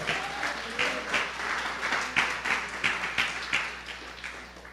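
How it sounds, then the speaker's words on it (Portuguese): A church congregation claps for the Lord during a service, a moderately loud, rhythmic run of pulsing hand claps that carries on steadily, with a voice faintly present beneath. "Você pode dar uma salva de palmas ao Senhor?"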